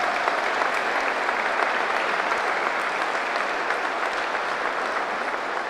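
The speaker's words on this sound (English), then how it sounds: "So can we just have a round of applause for my parents," Sustained, dense applause from an audience at a handball (wallball) championship, steady and fairly loud throughout with no talk over it.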